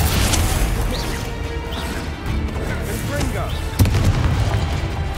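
Bombarda spell blasts in a Hogwarts Legacy battle: repeated smashing booms and crashes amid clashing spell effects, with a sharp loud impact near the end, busy and dense throughout.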